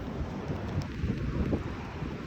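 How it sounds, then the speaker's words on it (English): Rough ocean surf and strong wind at Jaspers Beach during a stormy day, a dense continuous roar with wind buffeting the microphone and no talking. "The ocean's so angry."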